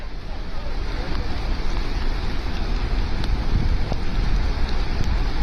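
Flash flood torrent pouring down a stream channel in Himachal Pradesh after a cloudburst, a loud, dense, continuous roar of rushing water filling the whole clip with no pauses.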